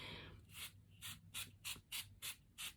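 Mineral setting spray hisses onto a face in seven quick, evenly spaced, close bursts after a soft rubbing sound at the start.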